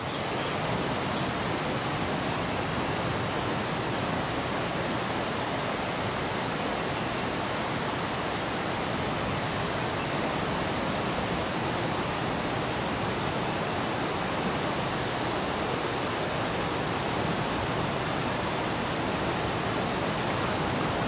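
Big ocean waves roll in as a steady, dense roar of surf with no clear breaks between crashes, loud and close, with no voices over the wash of water.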